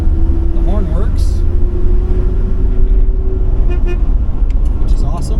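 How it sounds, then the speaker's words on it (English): Horn of a 1967 Plymouth Valiant 100 three-on-the-tree sedan, a couple of short toots over steady background noise, with a voice talking nearby. "The horn works,"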